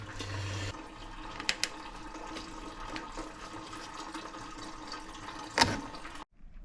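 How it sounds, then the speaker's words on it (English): Coolant drips and trickles from a loosened hose on a Lexus IS200 during a timing belt change, a faint, continuous watery patter with a couple of sharper drip splashes, heard close and alone. "the coolant is finally drained, and it's not, well, it's just dripping"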